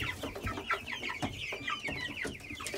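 A coop of chicks and meat birds cluck continuously and close by, a dense overlapping chorus of short calls with no talking.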